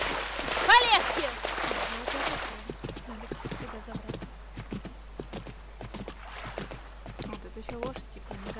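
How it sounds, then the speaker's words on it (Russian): Hooves of a horse on a ranch ride clop in a loose walking rhythm at close range, while people talk over the first few seconds and intermittently after. "Лошадь типа внедорожник. Умеет скакать по горам."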